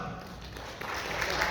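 Light applause from a small audience at a school band banquet honoring students, a steady soft patter of clapping throughout with a faint murmur beneath.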